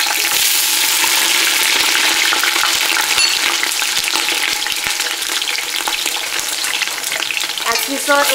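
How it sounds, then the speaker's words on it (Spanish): Large pieces of onion frying in very hot oil for a seafood and vegetable broth, a loud, dense crackling sizzle close by, broken by scraping stir strokes and a few sharper clinks near the end. "Aquí es la mitad de la cebolla, nada más que se dore un poquito. Mucho cuidado porque el aceite es muy caliente."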